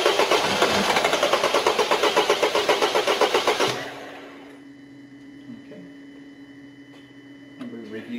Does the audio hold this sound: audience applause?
no